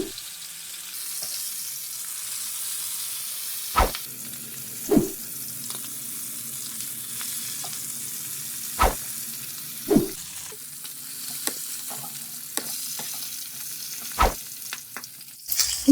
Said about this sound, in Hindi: हम चिकन को कलर देने के लिए हम हल्का सा इनको फ्राई करेंगे।